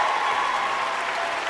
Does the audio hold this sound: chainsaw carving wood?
no